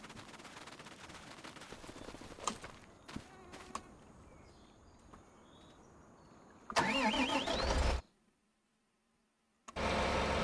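A tractor engine in Farming Simulator 25 cranks and starts up, the idle rising into a loud running rumble over faint outdoor ambience, then cutting out briefly before resuming.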